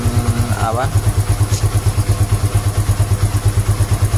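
Honda Supra X 125 FI motorcycle idling steadily up close, a rapid regular ticking from its fuel injector riding over the engine's pulsing throb, with a short rising whine near the start.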